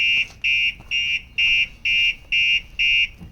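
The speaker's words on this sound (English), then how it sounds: "alarm's going to full trigger" Seven loud, evenly spaced electronic alarm blasts from a Starline car alarm on a VW Transporter pulse in a steady on-off rhythm, shrill and close.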